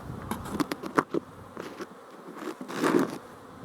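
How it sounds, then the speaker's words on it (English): Bees buzzing close by, a wavering drone that swells and fades as insects move around, with a few soft knocks mixed in. "Busy bees today."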